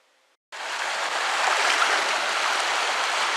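A creek running high after overnight rain rushing steadily, a dense continuous wash of flowing water that starts abruptly and holds at an even, fairly loud level.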